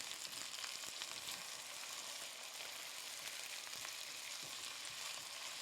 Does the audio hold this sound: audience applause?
no